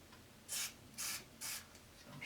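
Three short bursts of cleaner sprayed into the cassette mechanism of an Aiwa TPR-910 stereo boombox, faint hissy puffs in a quick even rhythm against a quiet room.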